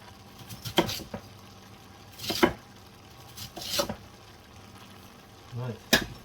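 Onions, stalks and cabbage fry for a curry base gravy while being stirred. Several short bursts of scraping and sizzling crackle up close, separated by quieter pauses.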